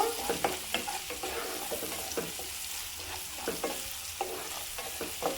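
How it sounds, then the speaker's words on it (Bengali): Salt, black pepper and Kashmiri chilli powder stirred in a sizzling pan for egg Manchurian, with steady rhythmic spoon scrapes over continuous frying hiss. "গোলমরিচের গুঁড়ো কাশ্মীরি লঙ্কার গুঁড়ো একটু নাড়াচাড়া করে নেব"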